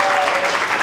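A brief burst of dense audience applause at a web development bootcamp demo day in Melbourne, loud and continuous across the whole moment.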